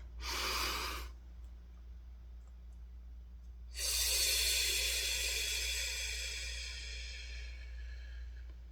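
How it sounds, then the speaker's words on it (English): Close, airy breathing: a short sniff, then after a pause a long, deep nasal breath that swells and slowly fades over several seconds. "let's take a deep breath."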